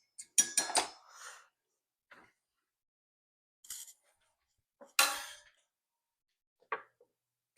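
Bowl of melted chocolate lifted out and a spatula fetched in a home kitchen, a few scattered close clinks and knocks of dishes and utensils separated by quiet pauses, with no talk.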